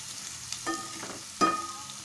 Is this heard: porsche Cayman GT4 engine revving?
no